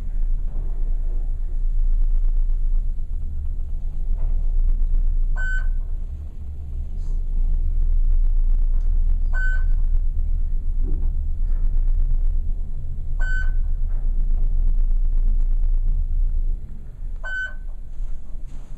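An old Otis traction elevator in the Sinclair Building in Steubenville, Ohio runs with a steady low rumbling hum of machinery, broken by four evenly spaced short electronic beeps as it passes floors, with no talking.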